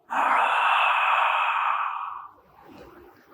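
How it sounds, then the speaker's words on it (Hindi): A long, loud open-mouthed yawn with a breathy, drawn-out inhale lasting about two seconds, then trailing off into a soft exhale and quiet rustling. "तो आपको अब जम्हाई लेनी है।"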